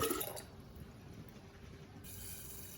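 Water pours steadily into a jar, a continuous soft splashing and trickling at moderate level, close by, with no voices.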